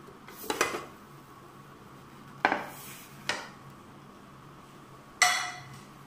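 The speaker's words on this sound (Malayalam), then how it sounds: "നമുക്കൊരു പ്ലേറ്റ് ഇതിൻ്റെ മുകളിൽ കമത്തി ഒന്ന് മറിച്ചിടാം." A plate set upside down over a pizza pan and flipped over in a home kitchen, giving four separate sharp clinks and clatters of crockery against metal, close and fairly loud, with quiet gaps between them and no talking.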